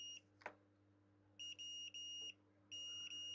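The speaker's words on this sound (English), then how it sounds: "if I go into beep mode" Electronic beeps from a multimeter continuity tester: a short one, then several sustained tones with brief gaps, over a low steady hum.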